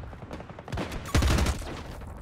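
Sniper gunfire in a video game, with a sharp, loud shot about midway through amid other game noise and rattling bursts.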